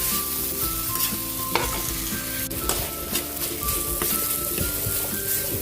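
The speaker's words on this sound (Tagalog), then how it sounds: "Pwede na natin ilagay yung ating pork giniling." Ground pork fries in a pan with a loud, steady sizzle, joined by crackles and scraping stir strokes, under a faint background hum and with no talking.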